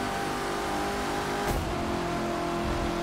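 Corvette ZR-1 Convertible engine in The Crew 2 holds a steady, loud roar with a sustained throttle, one brief sharp swell at the midpoint, no talking over it.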